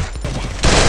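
Gunfire in the battle royale game Garena Free Fire, a dense burst of rapid shots that gets louder in the final third of a brief moment.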